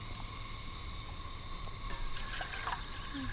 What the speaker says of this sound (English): Fill it up almost all the way.